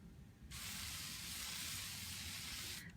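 One long, steady hiss of a spray bottle misting quilt fabric on a longarm quilting frame lasts a couple of seconds, close and even, then cuts off.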